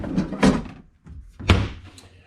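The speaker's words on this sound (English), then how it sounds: "There's a slide out trash can." A slide-out trash can in a tiny house park model kitchen is pulled open and pushed shut, giving two close, solid thuds about a second apart, each with a short sliding rumble before it.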